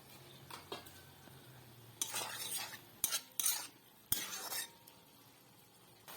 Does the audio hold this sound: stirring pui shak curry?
yes